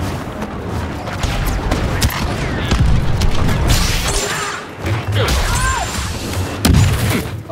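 Loud booming blasts and crashing impacts from a bomb explosion in Star Wars Battlefront 2, layered over chaotic battle noise and scattered firing.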